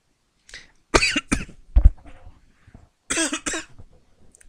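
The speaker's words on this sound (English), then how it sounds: "I coughed on nothing." Several sharp coughs in two bursts, loud and close, from one person with short breathy pauses between them and no talk.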